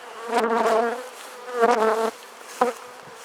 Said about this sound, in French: Ce sont actuellement nos ruches actives.